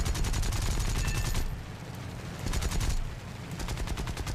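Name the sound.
machine gun fire in War Thunder video game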